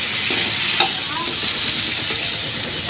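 Green chillies frying in hot oil for a tomato roti pachadi, a steady close sizzle with occasional stirring clinks, no voices.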